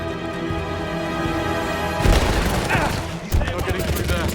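Sniper and automatic gunfire in the video game 007 First Light, a sudden heavy volley of loud shots and impacts with a second burst after a short lull, as a voice talks.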